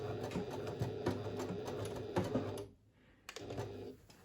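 A sewing machine back stitches fabric along the bottom side of a fabric pouch, a rapid mechanical whirring rattle heard close and continuous, stopping briefly for under a second before running again.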